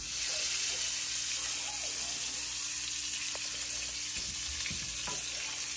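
Butter melting in a pan for salt butter parasad gives a steady, even sizzle and crackle that holds close and constant throughout, with a few faint knocks near the end and no talking.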